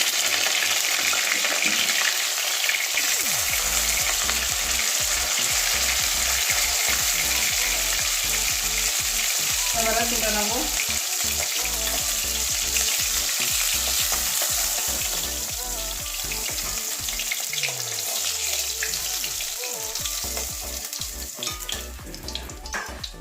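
Fish fries in hot oil with a loud, continuous crackling sizzle and many small pops, easing slightly toward the end.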